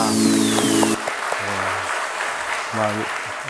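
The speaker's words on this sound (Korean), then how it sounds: "하나님께 영광의 박수 돌리겠습니다." Congregation clapping during a Sunday worship service at a Korean church, heard under singing and tonal music, with a voice coming in over the steady clapping.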